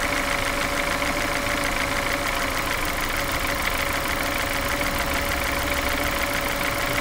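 Car engine idling on petrol after fast LPG injectors were fitted, a steady close mechanical drone with a light ticking knock, continuous and without speech.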